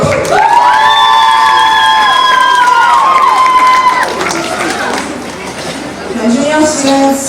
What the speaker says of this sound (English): Please can I get some noise from the crowd?